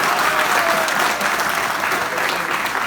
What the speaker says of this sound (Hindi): तालियां थोड़ी सी कमजोर है